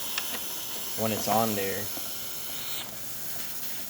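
Steady hiss of steam escaping from the loose steam-wand nozzle of a DeLonghi Magnifica XS espresso machine, running continuously beneath a voice as he talks.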